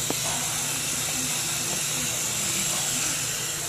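Water runs steadily from a sink tap into a bowl, a continuous hissing rush at moderate level with no talking over it.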